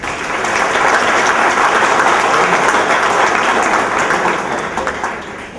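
Loud, dense audience applause in an auditorium following the introduction of a keynote lecture, sustained evenly before tapering off at the end.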